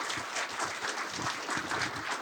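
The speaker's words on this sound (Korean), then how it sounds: "선생님께 다시 큰 박수 보내주시기 바랍니다" Applause from an audience at the close of a public architecture lecture, faint and fairly distant, a steady patter of clapping lasting a couple of seconds.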